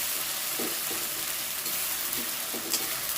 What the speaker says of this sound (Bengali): এবার দিয়ে দিচ্ছি বাটা পেঁয়াজ